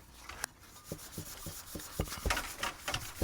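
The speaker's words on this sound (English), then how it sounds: "Just make sure you sand it down real good when you go back to soldering." Sandpaper rubbing on a copper refrigerant line set being prepared for soldering during an HVAC repair, a series of short scratchy back-and-forth strokes at close range with no speech.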